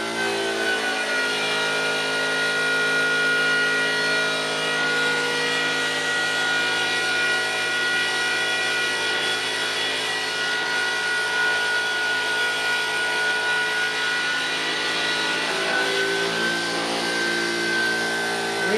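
Electric-converted John Deere 316 garden tractor driving in gear, a steady whining motor hum with a rising tonal note, continuous and close with no talk.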